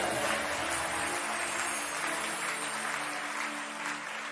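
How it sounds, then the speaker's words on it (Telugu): A church congregation at a Hosanna Ministries service clapping hands together, a dense, steady wash of applause from many people, fairly distant and even throughout. "ఇలా చప్పట్లు కొట్టాలి"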